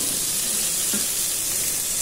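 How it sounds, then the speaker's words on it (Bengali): Onions frying in oil in a pan, a steady broadband sizzle with a brief soft stir partway through, close and continuous with no talking. "পেঁয়াজগুলো একটু তেল দিয়ে আর একটু ভেজে নেব।"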